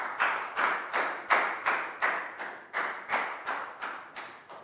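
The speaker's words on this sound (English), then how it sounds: "High five and a big round of applause for Pangpon" A classroom of students gives a round of applause, about a dozen evenly spaced rhythmic claps in unison, close and moderately loud, with no talking.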